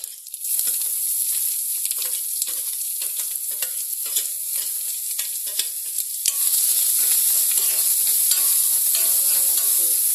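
Chopped onion and curry leaves sauté in a pan for an ABC thoran, a steady close sizzle with scraping stirs throughout that grows louder and brighter in the second half, no talking.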